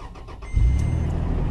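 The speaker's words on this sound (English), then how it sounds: "all you have to do is start the car" A 2007 Toyota FJ Cruiser engine starts with a brief cranking whir, then catches with a deep rumble that settles into a steady close idle, with no voices.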